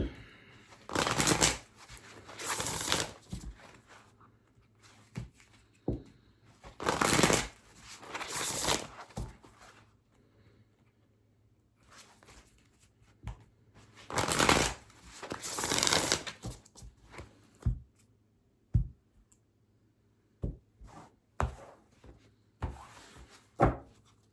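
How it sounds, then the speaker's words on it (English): An Earth and Bone Oracle card deck is shuffled up close in repeated riffling bursts of a second or two each, followed by lighter card taps and soft handling clicks. "I'm going to pull an Oracle card to begin this read from the Earth and Bone Oracle."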